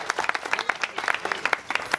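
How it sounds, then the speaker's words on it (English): Event audience giving a round of applause, dense rapid hand clapping from a crowd, fairly loud and close throughout the short burst. "let's give her a round of applause"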